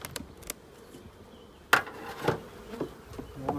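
Honeybees buzzing faintly inside an opened hive during a queen laying check, a low steady hum broken by several sharp knocks and scrapes of frames and hive tools.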